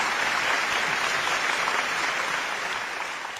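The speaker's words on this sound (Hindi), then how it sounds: "अब तू पार्थिव शरीर उठा अपना और जोरदार तालियां आप बजाइएगा।" Dense audience applause at a Hindi event, loud and sustained, fading slightly toward the end.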